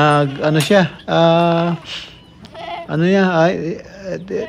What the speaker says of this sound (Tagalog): kinukuha niya yung mga ating kambing at isosoga niya doon